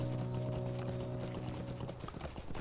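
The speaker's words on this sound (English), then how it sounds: "even when our horse is running into trees and hillsides there" Horse galloping in the Lord of the Rings Online video game near Rivendell: rapid, steady clip-clop of hooves over a sustained musical drone, no talk.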